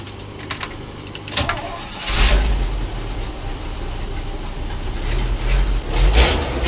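A 1967 Chevy C50 truck engine is started up: a few faint clicks and cranking noises, then a loud, close low rumble that catches and settles into a steady idle.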